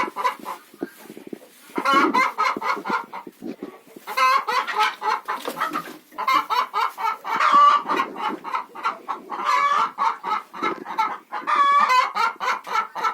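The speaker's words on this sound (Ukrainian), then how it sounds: "Курочка вже побігла, знесла яєчко." Hens in a chicken coop cluck and chatter steadily up close, with several birds overlapping in rhythmic bursts and occasional louder squawks.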